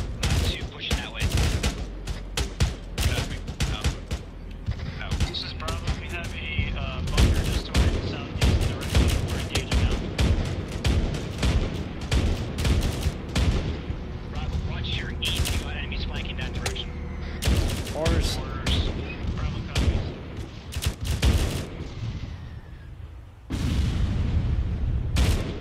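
Dense, continuous gunfire with repeated booms of grenade explosions fills a video game firefight, shots cracking in rapid clusters, with voices talking beneath the din.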